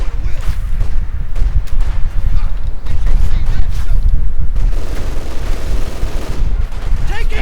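Light machine gun fire in Company of Heroes, incendiary armor-piercing rounds tearing into Soviet Guards infantry, dense rattling bursts layered with booms and battle noise, loud and continuous.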